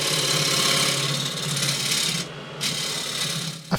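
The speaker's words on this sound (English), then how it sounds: "The brush gets into the grooves and removes any wax residue." A brush buffs wax off a grooved wooden guiro with a continuous close, dense rasping whir, briefly dipping and then continuing at a slightly lower level before a final knock.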